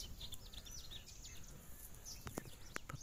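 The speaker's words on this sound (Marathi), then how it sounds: "फक्त पक्ष्यांचा आवाज वगैरे येतोय." Birds chirping in still, windless, foggy weather among motionless trees, faint scattered tweets and calls at a distance over a quiet outdoor hush, with a few sharper chirps near the end.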